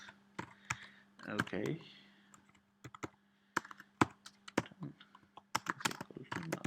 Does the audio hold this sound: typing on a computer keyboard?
yes